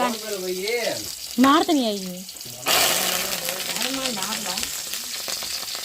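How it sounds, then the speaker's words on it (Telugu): Mustard seeds and spices for a chutney tempering drop into hot oil, and a loud, broad sizzle erupts partway through. It follows a stretch of talking and continues steadily while a voice speaks over it. "ఇప్పుడు తాలింపు అయితే పెట్టేసుకోవాలి"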